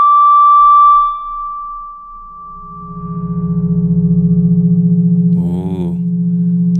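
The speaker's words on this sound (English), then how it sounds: "the echo seems to choose one frequency and sort of resonate it more than others" Synth tones run through an Erica Synths Black Spring Reverb: a steady sine-like tone fades into a dense, droning low resonance with a brief warbling burst near the end, all loud and without voices.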